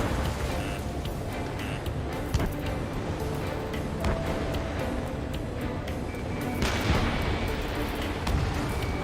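Enemy fire and explosions in the combat flight game Ace Combat 7, a dense, continuous barrage of booms and gunfire rumbling loudly throughout with sharper bursts near the end.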